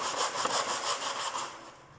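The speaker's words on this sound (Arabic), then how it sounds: "تحط المنشار بتاعك بالزاويه اللي احنا حطيناها دي 45" A hand saw set at a 45-degree angle cuts through foam board during a foam cornice installation, producing steady rasping back-and-forth strokes, close and loud, that taper off toward the end with no talking.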